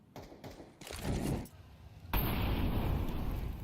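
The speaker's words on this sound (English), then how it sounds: "So many nades thrown out towards that yard position." Grenades going off in a Counter-Strike match at IEM Cologne 2025, thrown toward the yard position. Several close booming blasts come in quick succession, then a sustained loud roar and hiss of bursting utility, with faint commentary underneath.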